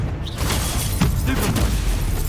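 Blasting Confringo spell explosion in the Hogwarts Legacy video game: a loud, dense rumbling boom with sharp crackling bursts near the start and middle, sustained throughout with no voices.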